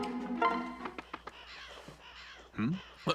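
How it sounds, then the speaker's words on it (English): Several crows caw in bursts among other game sound effects in Fire Emblem Awakening, with calls recurring across the moment and a louder cluster near the end. "That's a storm of crows? Gods, it's upon us!"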